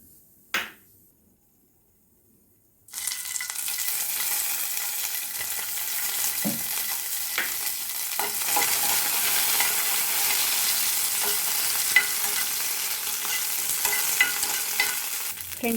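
Green chillies sizzle steadily in hot oil in a pan, a dense close frying hiss that starts abruptly after a near-silent moment, with occasional stirring clicks and no speech.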